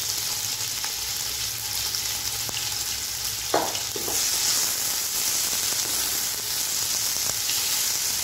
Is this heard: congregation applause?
no